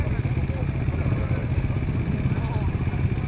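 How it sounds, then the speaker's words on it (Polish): An orange Austrian-made KTM single-cylinder 500cc motorcycle with an HGS-ATC muffler runs at a motorcycle season-opening meet, its steady thumping engine rumble continuous and fairly close, with people talking over it throughout. "Pomarańczowy KTM austriackiej produkcji, jednocylindrowy motocykl."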